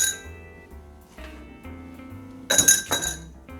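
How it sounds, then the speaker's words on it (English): Large ice cubes clink and knock into a cocktail glass for a low-carb Old Fashioned, a couple of bright, close glassy rattles after a quiet stretch. "We're going to use a couple of large ice cubes."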